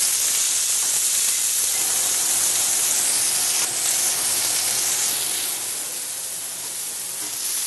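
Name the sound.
Turner beef striploin steak sizzling in a smoking hot pan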